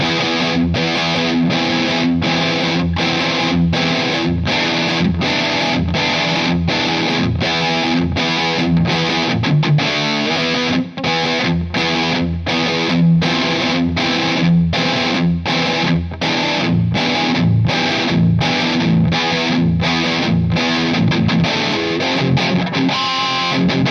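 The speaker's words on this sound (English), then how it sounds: "It is the Boss DS-1 Distortion Pedal." An electric guitar played through a Boss DS-1 distortion pedal churns out a loud, steady stream of evenly spaced distorted chords in a driving rhythm for the whole stretch.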